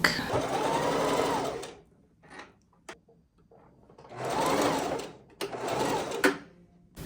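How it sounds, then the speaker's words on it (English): A domestic sewing machine runs in two loud bursts as it stitches the two fabric ends of a spring off-the-shoulder top together, with a quieter stretch of faint handling noise between the runs. "So we're just going to sew this real quick."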